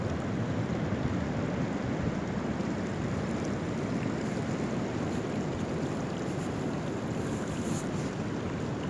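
Waves roll and wash continuously on Hawera beach in South Taranaki, a dense, loud roar heavily mixed with wind buffeting the microphone throughout.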